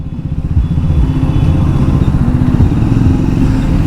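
A Triumph Speed 400 motorcycle is being ridden, its single-cylinder engine giving a close, loud, thumping exhaust beat that holds steady and rises slightly in revs, alone with no talk.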